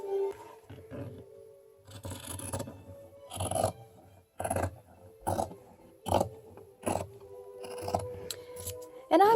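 Scissors snip through shirt fabric along a curved seam, a steady series of short crisp cuts with soft rustling of cloth between them, close and quiet with no voices.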